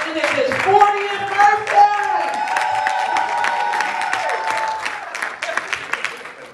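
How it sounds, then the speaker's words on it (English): A church congregation claps and cheers in praise at a Resurrection Sunday service, a dense wash of applause with whoops and voices mixed in, steady and loud throughout, with tonal music or singing running underneath. "Give God a hand clap of praise."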